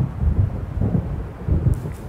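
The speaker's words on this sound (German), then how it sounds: "So wie es aussieht, zieht ein Sturm auf." Low rumbling thunder of an approaching storm in Alan Wake Remastered, rolling in several heavy swells over a steady windy, rainy background.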